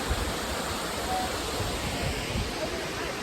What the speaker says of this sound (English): Right next to a giant waterfall.